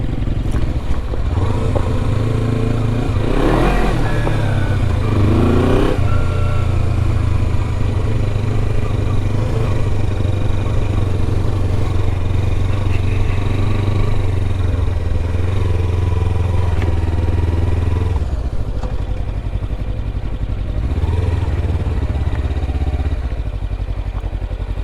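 A Kawasaki Versys 300 motorcycle ridden off road up a rough hill, its engine droning loud and steady throughout with some rattling clatter and brief revs, close to the rider.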